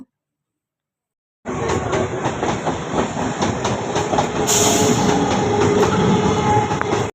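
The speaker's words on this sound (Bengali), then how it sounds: "ট্রেন ঢুকছে এখন এই ট্রেন ঢুকে গেল" A train pulls into a station platform, its rumble and rhythmic wheel clatter rising loud and close, with a brief high squeal near the end; no talking.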